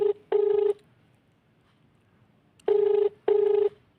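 A telephone line gives repeated busy or disconnect tones after a call is cut off: two steady beeps, a pause, then two more, clear and alone with no talking.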